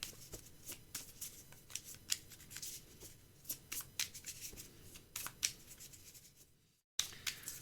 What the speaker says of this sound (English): we're just going to shuffle this all up